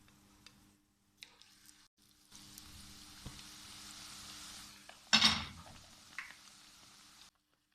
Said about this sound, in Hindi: तो चलिए इनको भी फ्राई कर लेते हैं।